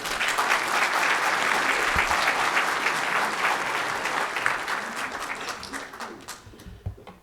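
A room of delegates at a 3rd district political convention gives a speaker a long round of applause. Dense clapping holds steady at first, then thins and fades as a few scattered claps trail off at the end.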